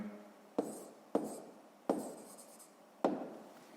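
Pen or pencil writing by hand in a notebook during a 6th-grade maths exercise: four distinct scratchy strokes with sharp onsets and short fading tails, close and quiet, with no talk.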